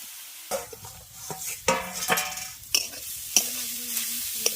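Grated carrot sizzles with a little salt in a pan while a spatula scrapes and stirs in sharp, irregular strokes, with clinks of metal against the pan.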